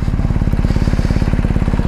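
A BMW R1250GS HP motorcycle fitted with an Akrapovic muffler idles nearby, its loud, deep boxer-twin exhaust pulsing in a steady, rapid, even rhythm throughout.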